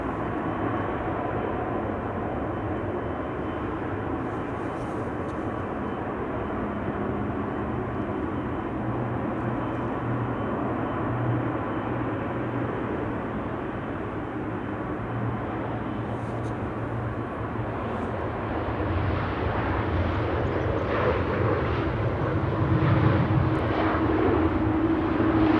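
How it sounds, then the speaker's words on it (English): Military aircraft flying overhead near Amsterdam Schiphol Airport, a loud continuous engine drone that swells and grows rougher toward the end, with no talk. "Definitely hearing something military overhead."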